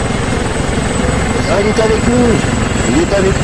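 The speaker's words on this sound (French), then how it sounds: "C'est un hélicoptère." A helicopter at an outdoor event roars loudly and steadily with a continuous rotor and engine drone, while people talk over it.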